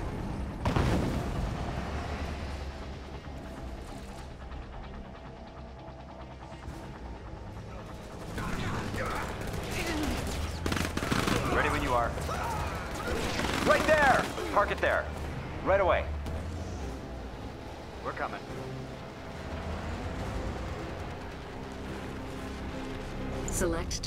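Units attacking in Command & Conquer 3: Tiberium Wars, with repeated bursts of gunfire and booming impacts of varying loudness, mixed with voices talking over the battle.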